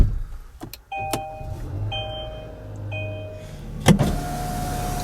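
Inside a 2016 Kia Sorento at start-up, a chime repeats in short tones several times over a low idle, followed by a click and a brief thump nearby.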